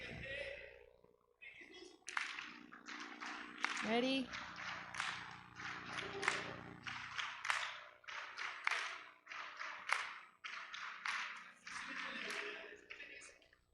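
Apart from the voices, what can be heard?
audience clapping on request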